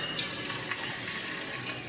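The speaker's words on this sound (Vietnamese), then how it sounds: "Rồi mình sẽ chiên cái phần thịt này nha các bạn." Pork belly fries skin-side down in oil in a pan over low heat, giving a steady, close, even sizzle and crackle with no voices.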